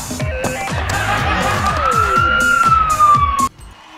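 An ambulance siren wails loud and close, its tone rising and falling over a rapid pulsing rhythm before it cuts off abruptly.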